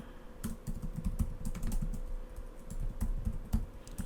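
Steady typing on a computer keyboard while entering lines of Python code, a quick run of close, crisp key clicks with uneven rhythm and no voices.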